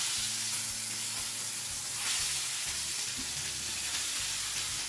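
Sankara fish fries in oil in a pan with a steady, close sizzle and bubbling hiss throughout, with no talk.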